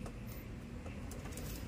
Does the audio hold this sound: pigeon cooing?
yes